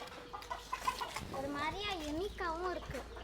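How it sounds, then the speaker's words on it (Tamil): Country chickens raised at a home in India cluck and call in short rising bursts, close by, while people talk over them. "நாட்டுக்கோழி வளர்ப்பு."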